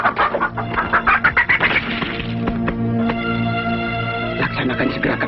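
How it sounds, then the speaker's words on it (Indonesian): A chicken clucks and cackles in short bursts amid film-scene background sound, with speech present in a historical drama setting. "sekarang kita coba dengan ayam ini"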